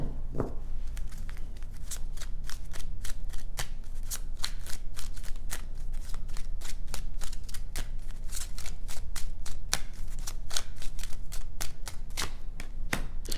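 Tarot cards are shuffled continuously, a dense run of sharp crisp riffling snaps and flicks close to the listener with no voices.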